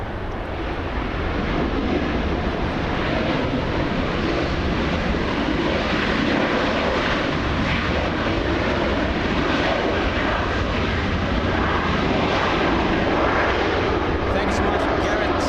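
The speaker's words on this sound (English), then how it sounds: "We have the Lufthansa A380." Lufthansa Airbus A380 at LAX, a steady, loud, broadband jet roar that holds evenly throughout, close and continuous.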